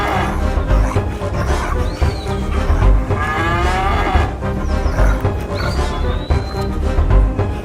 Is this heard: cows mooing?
yes